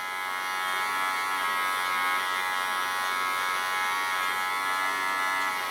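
Electric hair clippers buzz steadily and close up throughout, a continuous bright hum while cutting a woman's hair, with no talking.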